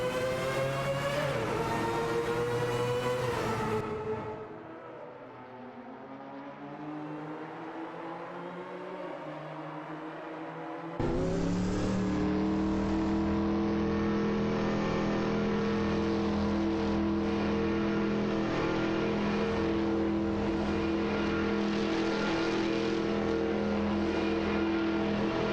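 Race cars in a Live for Speed video game race roar and whine at high revs, the engine pitch sweeping down as one car fades, then a sudden loud burst of several engines droning together for the rest.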